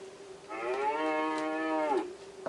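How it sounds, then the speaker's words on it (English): A cow lets out one clear, sustained moo that lasts about a second and a half over a quiet background, starting and ending abruptly. "Yes, cow."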